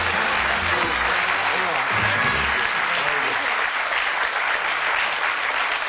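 A television game show studio audience claps in sustained, dense applause for the full stretch, loud and even, with a few voices faintly mixed in at the start.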